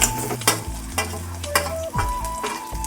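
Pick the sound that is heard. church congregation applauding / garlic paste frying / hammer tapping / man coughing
garlic paste frying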